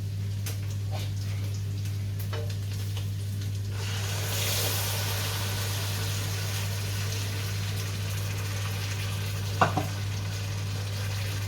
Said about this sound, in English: now I think it's time to put the tomato mix into the meat